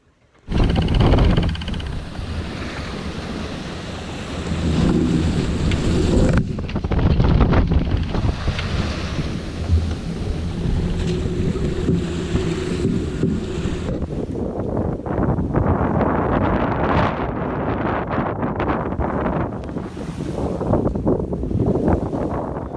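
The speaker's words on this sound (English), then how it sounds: "It's blowing like crazy still." Strong wind roars and buffets the microphone continuously, with waves and rushing water around a singlehanded sailboat in an offshore race, loud and sustained throughout.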